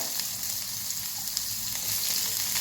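Cumin and onion frying in hot oil, a dense, continuous close sizzle with faint clicks running throughout.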